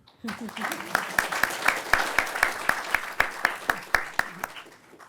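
A law conference audience answers with a round of clapping that sounds like a sharp, evenly spaced series of hand claps at a steady rhythm, with a voice murmuring underneath before it fades out.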